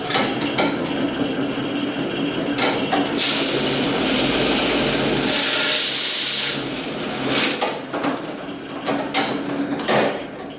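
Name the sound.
honeycomb wax uncapping machine running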